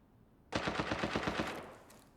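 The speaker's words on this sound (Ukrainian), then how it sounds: "Я чув, як стріляють дурнуваті боти." Rapid automatic gunfire from bots in a shooter video game, a loud burst of about nine evenly spaced shots that begins abruptly and then fades into a faint tail.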